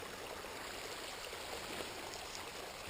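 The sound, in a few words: spring brook flowing over rocks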